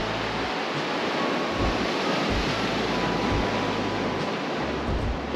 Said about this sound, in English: Strike that, the waves are really rough.